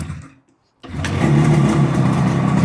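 A restored old motorcycle engine, left sitting for decades, catches after a kick start, with a brief quiet gap before it fires and then a loud, steady, close running rumble.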